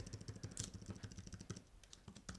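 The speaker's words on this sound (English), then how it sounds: "Let me test the keyboard, and here we go." Someone types on a Bluetooth keyboard paired with an iPad Air, producing a quick, steady run of light key clicks. The clicking is close and quiet and is heard alone.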